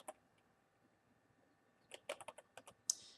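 Typing on a computer keyboard, a faint click at first, then a quick burst of about eight crisp key taps close by, quiet surroundings, no talking.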